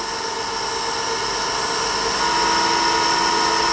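A metal lathe turning a walking cane runs slowed to about 500 RPM, giving a steady whirring hum with a constant high whine, continuous and fairly loud, with no talking.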